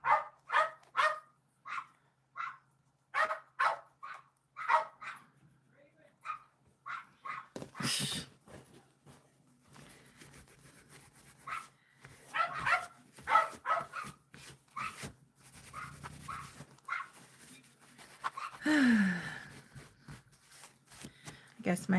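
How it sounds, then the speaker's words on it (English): Dogs bark and yip in repeated short bursts at close range, mixed with people talking throughout. "now the dogs have to be vocal to get his attention"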